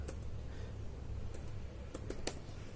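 Computer keyboard typing, heard as a few faint, scattered key taps over a steady low hum.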